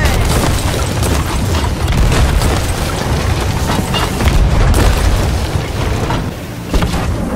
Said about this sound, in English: Get ready with some fireballs in those cannons.